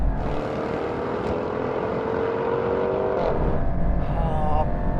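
An AMG E63 S and a Jaguar Project 8 accelerate flat out side by side in a drag race, a dense, loud engine roar rising steadily with wind rush, and a gearshift blip midway.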